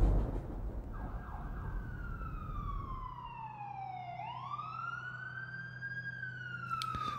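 An ambulance siren wails, sweeping steadily down and then rising again, with continuous traffic rumble underneath and no voices.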